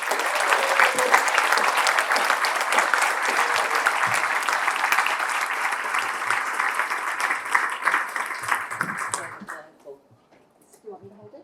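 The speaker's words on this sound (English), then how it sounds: "let's give her a round of applause" Sustained applause from an audience at an awards ceremony, steady and dense for about nine seconds before tapering off and stopping.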